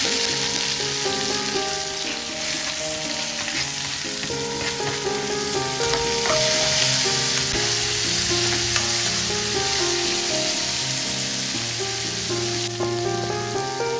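Onions, green chillies and curry leaves frying in hot oil for a bean seed curry, a loud steady sizzle with occasional stirring scrapes, continuous throughout with no talking.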